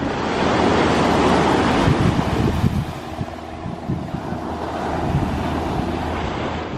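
Strong wind buffets the microphone in a continuous roar on a beach in the Outer Banks of North Carolina, with the wash of surf rumbling underneath, loud and unbroken throughout.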